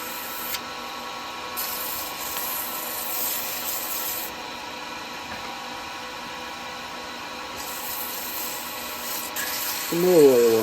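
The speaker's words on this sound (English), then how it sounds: "It's nice oil sanding because you don't get no dust." A steady, smooth rubbing hiss of oil sanding a wooden log turning on a lathe runs throughout, constant and close, with a brief rise in pitch near the end.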